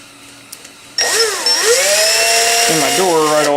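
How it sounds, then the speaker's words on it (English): A power drill spins up abruptly and whines steadily, its pitch rising and falling as it bores a hole in a retract door of a Top Flite giant P-51 RC plane, close and loud, with a faint click beforehand. "I'm going to take my drill"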